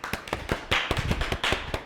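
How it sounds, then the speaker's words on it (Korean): Scattered claps from a small lecture-hall audience at a Saturday science talk, greeting a nanomaterials professor as he takes the stage; irregular sharp hand claps spread over a couple of seconds, moderately loud and close. "그럼 박수와 함께 정문석 교수님을 모셔보겠습니다."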